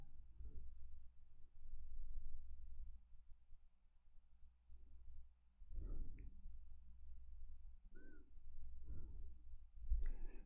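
A handful of soft, isolated computer mouse clicks spaced several seconds apart over a low steady hum, with no talking.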